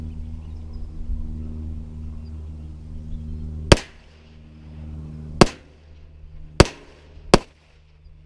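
A Smith and Wesson 422 pistol fires Federal rounds, with four sharp, loud gunshots spaced irregularly over a low background hum and no talk.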